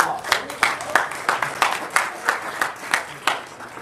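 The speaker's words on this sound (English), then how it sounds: "so definitely, a round of applause." An audience claps in a steady, rhythmic pattern of distinct, fairly close claps that continue throughout.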